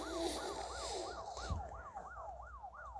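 Wailing police siren from the Smash Road driving game during a getaway, a steady rising-and-falling sweep repeating about every half second over a low engine rumble, loud and continuous, with no talk.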